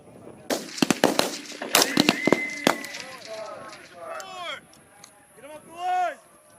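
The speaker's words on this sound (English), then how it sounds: "Set up your shooting position before you start firing." Rifles fire in a rapid, irregular series of sharp reports on a Marine Corps firing line at an outdoor range, close and loud, followed by voices shouting and talking.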